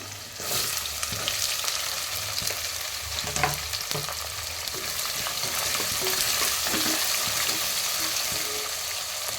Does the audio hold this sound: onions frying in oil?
yes